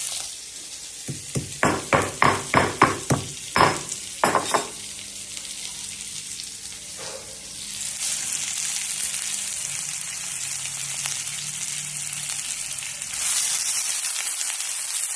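Onions with ginger and garlic fry in a pan, first a run of sharp stirring clacks and bursts of sizzle, then a steady frying hiss that grows louder toward the end.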